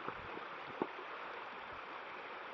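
Petrol pours down a dam with a steady, faint, stream-like rushing and a few soft splashes, distant and even, with no talking.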